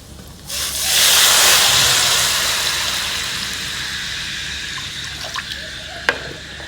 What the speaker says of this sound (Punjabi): ਹੁਣ ਆਪਾਂ ਅੱਧਾ ਲੀਟਰ ਪਾਣੀ ਪਾ ਦਾਂਗੇ